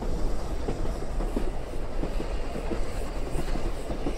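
A train running on rails as a radio drama effect, slowing as it nears Zurich station: a steady, continuous rumble with rhythmic clickety-clack of wheels over rail joints, moderately loud and alone, no voices.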